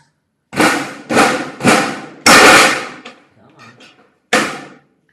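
Thin galvanized steel sheet-metal shelf pieces snap and bang together in a bare room, five loud metallic thumps in an uneven sequence with faint rattling between them, close and echoing.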